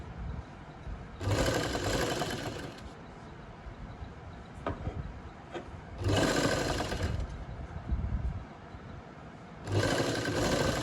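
Sewing machine stitching a buckram neckline, running in three loud bursts of rapid stitching separated by quieter pauses with faint handling clicks.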